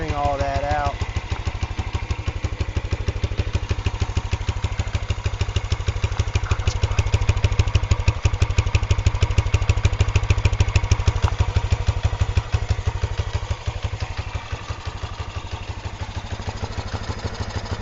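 A Kawasaki Bayou 400 ATV engine idles steadily with a rapid, even putter and mechanical clatter, close and loud throughout, after sitting unused for six years.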